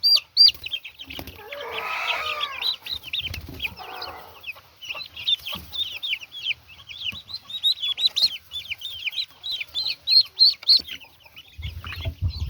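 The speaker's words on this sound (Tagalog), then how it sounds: "this is a mixture of Rhode Island Red, Black Australorp, and silky chickens." Rhode Island Red, Black Australorp and silkie chicks cluck and chirp steadily in a brooder, with a dense run of high peeps throughout, a louder rustling burst early on and a low thump near the end.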